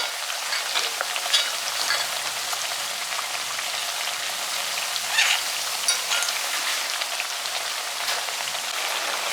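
Parippu vada lentil fritters deep-frying in hot oil on full flame, a dense continuous crackle and spatter like heavy rain, steady and close with small pops throughout.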